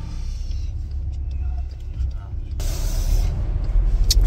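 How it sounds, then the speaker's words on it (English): A car drives along the road from Kramatorsk to Kharkiv in wartime Ukraine, giving a steady, loud low engine and road rumble that turns into a brighter, broader roar partway through. "Here we are driving from Kramatorsk to Kharkiv"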